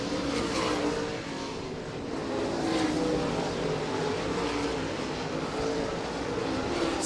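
Late model race cars racing at I-96 Speedway, a steady, loud roar of engines running together that stays constant throughout with no talk.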